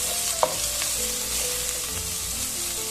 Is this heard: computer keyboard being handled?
no